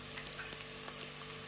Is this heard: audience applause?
no